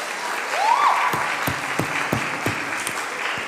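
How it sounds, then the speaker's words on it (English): Audience applause at a speech event, a sustained wash of clapping from a crowd with a short whistle rising through it early on, tapering slightly toward the end. "I didn't even get a round of applause saying it."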